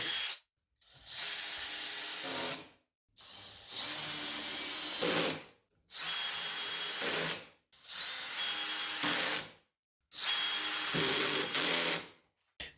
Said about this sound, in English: I pocket screwed the sides on